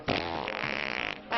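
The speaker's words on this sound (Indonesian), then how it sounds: "saya nggak mau kamu kentut di depan saya" A short, buzzing fart, close and fairly loud, lasting about a second with a wavering tone before a brief trailing burst.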